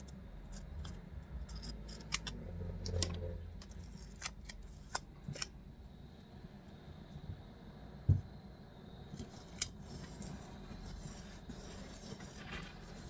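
Sticker paper trimmed by hand with scissors, a handful of sharp, close snips scattered across quiet room tone with faint rustling between cuts.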